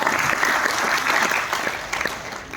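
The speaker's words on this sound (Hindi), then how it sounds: "एक बार जोरदार ताली" An audience at a network marketing talk breaks into steady, dense applause that fills the whole moment with continuous clapping.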